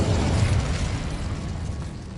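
A Confringo spell exploding in Hogwarts Legacy, a loud, broad rumbling blast that fills the whole moment and then settles into a slowly fading roar, with no voices over it.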